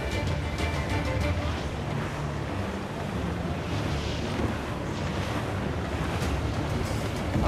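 Steady wind roars over crashing sea waves aboard a sailing ship in the video game Assassin's Creed IV Black Flag, a continuous loud wash of surf and gusts with no pauses.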